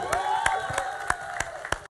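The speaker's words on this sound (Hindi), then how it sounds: "जरा जोर से ताली बजाइए" An audience at a Bollywood song launch for Shootout at Wadala claps and cheers, with sharp bursts of applause over a rising whoop and crowd noise, fairly distant.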